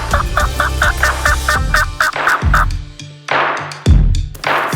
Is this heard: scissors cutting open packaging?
no